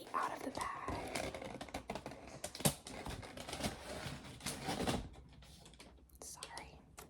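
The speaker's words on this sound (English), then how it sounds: "I'm going to try and get this receipt out of the bag." A paper receipt is pulled out of a shopping bag with close, crinkly rustling and soft scraping in a quiet room, while a voice whispers over it.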